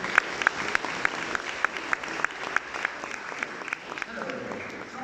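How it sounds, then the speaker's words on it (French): Audience applause at an SME trophy awards ceremony, a steady patter of many hands clapping at moderate distance with a few sharper individual claps standing out, and no talk over it. "Applaudissements, merci beaucoup."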